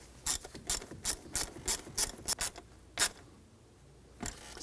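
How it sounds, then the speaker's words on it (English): Ratchet tightening a hose clamp on a 2004-2009 Audi Quattro throttle body: about ten quick, close ratcheting bursts in an uneven rhythm, then a pause before one last burst. "Put the hose on and tighten down the hose clamp."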